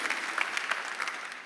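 A church congregation applauds during a sermon, a short burst of many hands clapping at moderate loudness, steady and dense throughout.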